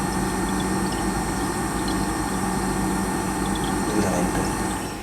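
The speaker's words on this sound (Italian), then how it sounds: "Questo è il rumore del compressore." The compressor of an AOBOSI 12V portable 75-litre fridge hums in a low, steady drone, faint and unchanging throughout with no other sounds over it.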